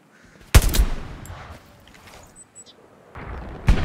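An anti-tank gun fires in the Hell Let Loose battlefield game. Two heavy booms land a few seconds apart, each followed by a rumbling tail over a quiet background.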